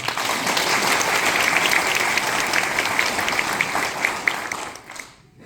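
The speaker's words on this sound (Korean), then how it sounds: "다시 한번 박수 부탁드립니다." Audience at a police day anniversary ceremony gives sustained, dense applause in a hall, many hands clapping steadily before the sound drops away abruptly at the end.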